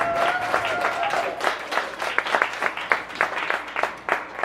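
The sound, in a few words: audience applause at poetry reading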